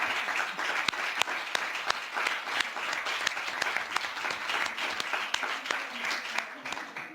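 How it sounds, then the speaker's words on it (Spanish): Sustained applause fills a parliament chamber, many hands clapping in a dense wash at moderate level, with some voices faintly mixed in beneath. "Más aplausos."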